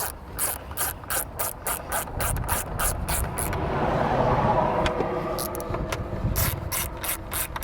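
A hand ratchet clicks rapidly and evenly, close by, as it tightens two 10mm acorn nuts on a Toyota 4Runner during an oil change. It pauses briefly, then clicks on again in a second burst.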